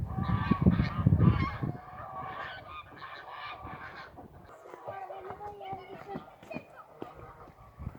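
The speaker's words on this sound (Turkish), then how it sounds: "Ördekler suya daldı." Honking duck calls ring out near a small lake in a nature park, loud at first then fading, with people chatting in the background throughout.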